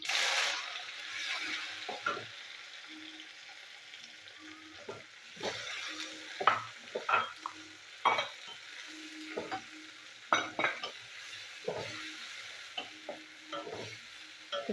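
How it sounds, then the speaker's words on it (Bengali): Chopped onion fries in a pan with cumin, mustard seeds and green and dried chillies, giving a steady close sizzle punctuated by irregular scrapes and knocks of a stirring utensil against the pan, with no voices. "তো পেঁয়াজটা আমি একটু ভালো করে ভেজে নেবো।"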